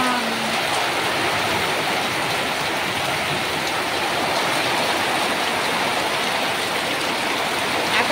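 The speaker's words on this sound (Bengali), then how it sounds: "কি বৃষ্টি, কি তুফান।" Heavy rain during a storm pours steadily and densely on a tin-roofed village home, a loud continuous hiss with no pause and no talking.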